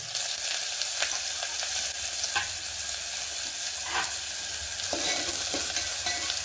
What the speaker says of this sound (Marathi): व्यवस्थित कांदा परतून घ्यायचा आहे